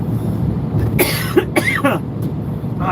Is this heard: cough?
yes